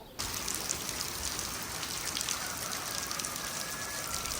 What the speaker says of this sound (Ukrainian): Злива нас таки вигнала з городу